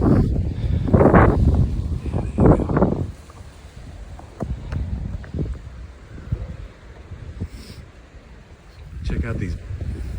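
Wind buffets the microphone on a mountain backpacking trail to Lion's Head in Dolly Sods, West Virginia, rising in strong gusts early and again near the end, with rustling and footsteps between.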